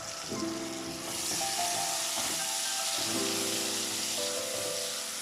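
Curry powder and chili flakes sizzle in a pan with tomato, a steady broadband hiss with soft scraping knocks from stirring, close and continuous with no talk.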